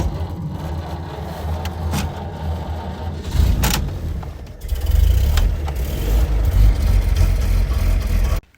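A 1929 Buick Standard Six car driving on a test run after its original asbestos brakes were adjusted, a low rumbling engine drone that swells louder partway through with a few brief clacks, close and steady until cutting off.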